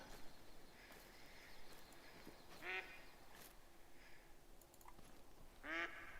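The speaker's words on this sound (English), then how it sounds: "There's a duck going crazy up there." A duck quacks in outdoor woods during a moose hunt, two or three short raspy bursts spaced apart, moderately distant over steady background hiss.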